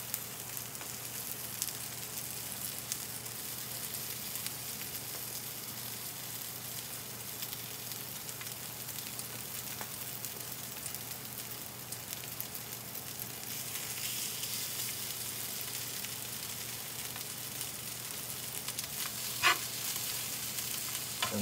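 Bread and meat remnants sizzle steadily on a grill, a continuous close frying hiss with faint crackles and the occasional scrape, no talking.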